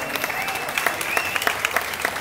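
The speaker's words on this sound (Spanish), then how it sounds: "ponte el aplauso" Crowd applause at a live band show with guitar and keyboard, sharp claps over a steady wash of clapping, a few brief tones ringing over the top.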